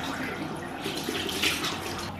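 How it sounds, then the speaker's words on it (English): Tap water running into a sink while a face is rinsed, a close steady splashing stream with small splatters over a couple of seconds. "I'm just gonna rinse my face now."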